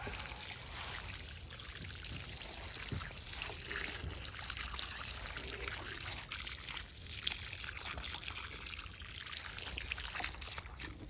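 Water trickles and pours from a container onto a garden plant, a soft steady outdoor stream of splashing and dribbling with no talk.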